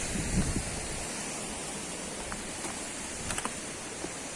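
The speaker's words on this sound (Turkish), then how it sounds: "Şelalenin bir parçası buradan çıkıyor." Water flows out of a waterfall's spring source in Aladağlar National Park near Yahyalı, Kayseri, making a steady, close, broadband rush that holds an even level throughout, with a few faint splashes toward the end.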